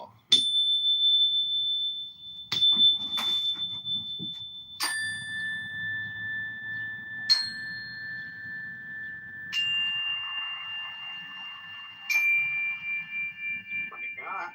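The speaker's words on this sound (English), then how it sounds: "how are you on Zen bell?" Small Zen bells are struck one after another, each ping ringing out bright and clear and fading slowly as the next overlaps it, about six strikes over the span, close and loud, with faint low rumbling underneath.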